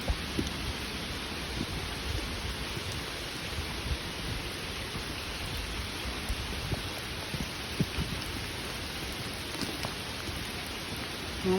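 Steady heavy rain pours down in a wooded trail area during a storm, a dense unbroken hiss with faint rumbles of thunder underneath and no voices.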